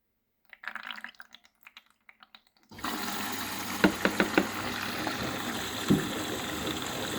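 Liquid from a colored laundry capsule poured into wash water for woolen garments, starting with a few soft clicks and drips, then a sudden steady splashing stream with occasional knocks, close and alone.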